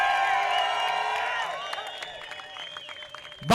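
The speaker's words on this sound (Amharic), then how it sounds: "እስቲ ከዚህ በላይ ጩኸታችሁን፣ እልልታችሁን፣ ጭብጨባችሁን።" A church congregation in Arba Minch shouts, ululates and claps together in a loud, sustained burst, with high trilling voices riding over dense applause and cheering.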